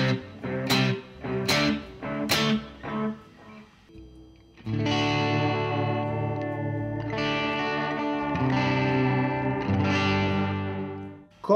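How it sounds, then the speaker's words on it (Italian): A guitar runs through a Keeley Caverns pedal set for delay with deep modulation, first plucking several sharp repeated notes, then sustaining a warbling, chorused wash of echoing chords that hangs on without talk. "andiamo a inserire le modulazioni, andiamo su quella profonda, sentite come sembra essere quasi un delay"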